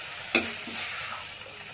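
Tomato and onion cooking down in a pan with salt for a Kerala crab curry: one sharp utensil clank, then a steady close hiss of sizzling with light stirring scrapes.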